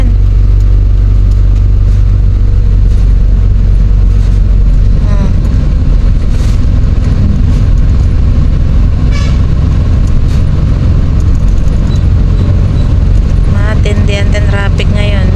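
Heavy road traffic in Taal after a typhoon, with a dense, loud rumble of engines and passing vehicles, occasional horn toots, and people talking over the continuous din.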